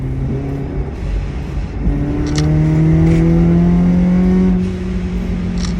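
A 400bhp Honda Civic FN2 Type R engine pulls hard through the gears, its tone climbing steadily before easing off. It is loud and close, heard from inside the car with no talk.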